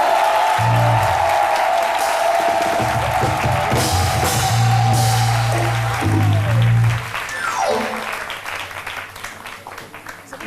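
A television studio audience on an Ivorian midday variety show breaks into sustained applause as a guest is welcomed. The clapping sounds broad and steady, with music and crowd noise underneath, and then fades toward the end.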